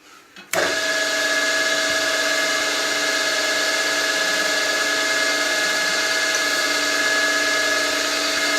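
A metal lathe spinning at 1000 RPM takes a light cut on a part for a Simplex steam engine, starting abruptly and then holding a steady, loud, even machining whine with a bright tonal ring for several seconds, with no speech.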